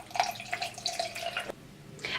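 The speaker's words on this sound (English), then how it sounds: "And then rinse again in cold water." Tap water runs and splashes while makeup brushes are rinsed under cold water in a sink, a close, uneven trickle with brief pauses and no voices.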